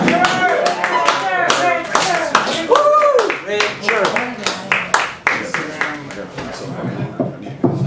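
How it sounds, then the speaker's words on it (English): Audience at an open mic night clapping steadily for a performer coming up, dense continuous applause with a few voices and cheers mixed in, fairly close and loud throughout. "Let's have a big round of applause."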